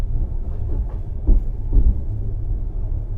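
A Soviet night train running from Chișinău to Bucharest rolls along with a deep steady rumble and faint periodic wheel clicks, heard from inside the carriage without talk.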